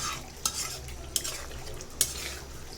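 Stinging catfish and potato pieces fried and stirred in a pan, with a steady sizzle and three sharp scrapes of a utensil against the pan at regular intervals.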